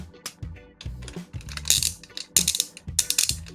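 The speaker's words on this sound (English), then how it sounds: "Nice ratchety clicks that you click that in" A Metal Cardbot Wild Guardy transforming toy gives a series of crisp plastic ratchet clicks close up as a part snaps into place, about a dozen sharp ticks in quick uneven bursts.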